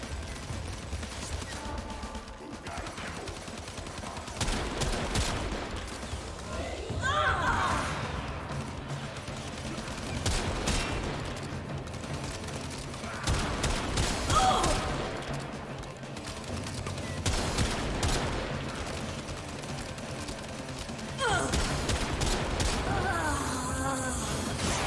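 Video game gunfire crackles in repeated bursts over a long stretch, with rapid volleys and heavier impacts rising and falling at moderate loudness beneath a game soundtrack.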